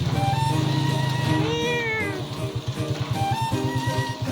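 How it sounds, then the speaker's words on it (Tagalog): A cat on a farm meows while greeting arrivals, giving a clear rising and falling meow up close over a pulsing background rumble. "Sumasalubong yung pusa."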